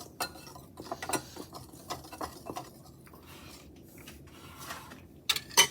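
Dry cookie ingredients including baking powder being stirred together in a bowl, heard as quiet repeated scraping and light clinks of a utensil against the bowl, ending with a couple of louder knocks.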